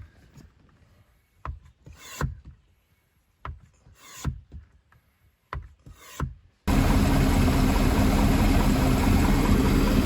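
Pela 6000 oil extractor pumping warmed engine oil out of an I/O boat engine, heard first as intermittent rubbing, rasping pulls in short bursts, then as a steady, loud, broadband whooshing suction that runs without a break.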